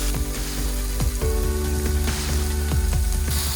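Beef browning in olive oil in a pan gives a close, steady sizzle and crackle with quick ratcheting pops and clicks throughout, with no one talking.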